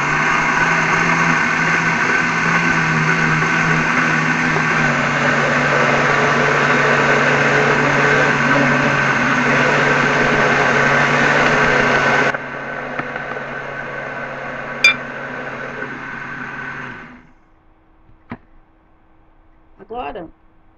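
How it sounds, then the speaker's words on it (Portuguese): A blender whirs steadily as it mixes orange cake batter, loud and continuous for about twelve seconds, then runs on at a lower, thinner pitch before cutting off, leaving brief clicks and a short rattle. "tudo no liquidificador"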